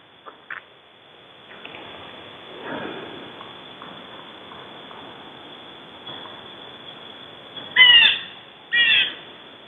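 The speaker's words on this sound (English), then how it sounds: "You can hear the birds around here outside." Birds squawk outdoors against a quiet background, with scattered soft calls building to two louder, close squawks near the end.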